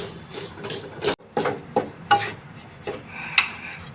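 Gram flour and ghee are stirred in a pan with a ladle, giving intermittent scraping and rubbing strokes with small metallic clinks, close and fairly quiet.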